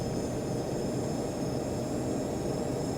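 Simulated airliner engines roar at a steady high power setting during the takeoff roll, a loud continuous broadband rush with a faint high whine above it, no voices.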